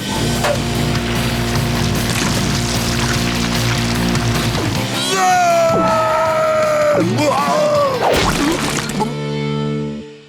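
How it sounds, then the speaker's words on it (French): Quick-setting cement gushes out in a cartoon pouring effect for Blaze and the Monster Machines, a steady pour lasting several seconds under loud music with rising, sliding tones. "Le ciment est mélangé et prêt à être versé."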